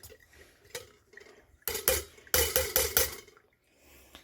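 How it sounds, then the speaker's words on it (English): A small spoon stirring pour-over coffee grounds, giving light scattered taps and then a quick run of several sharp clinks against the brewer, close and fairly quiet. "So I'm just going to stir it around. Move the grounds around a little bit."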